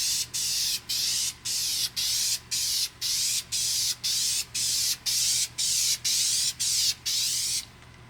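A spray gun lays clear coat over a fourth-generation Toyota 4Runner in a rhythmic series of about thirteen short, even hissing bursts with brief gaps between, close and fairly loud, then stops.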